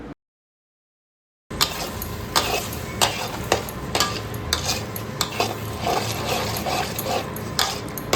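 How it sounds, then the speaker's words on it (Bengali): Chopped coriander being stirred into a cooked loitta (Bombay duck) fish bhuna in a pan, with repeated soft scraping and clinking strokes over a low sizzle, following a brief silence at the start. "ধনেপাতা কুচি দিয়ে মাছের সাথে খুব ভালোভাবে মিলিয়ে দেব।"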